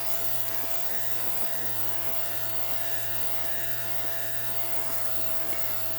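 Sinbo electric lint remover steadily buzzing as it runs over a T-shirt, a continuous close motor hum with a faint rhythmic ticking texture and no pauses.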